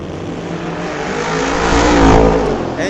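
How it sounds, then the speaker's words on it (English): An Audi drag racing car at a street-legal drag night at Mission Raceway Park accelerates hard down the strip, a loud, close, rising engine roar that swells and holds with no talk over it. "Holy moly, that Audi doing 130 at half track."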